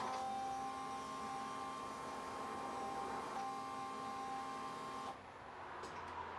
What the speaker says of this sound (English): the MSD pump is clearly the winner because the Walbro was at 84-ish decibels and this one was at 67